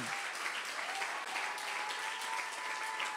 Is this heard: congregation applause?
yes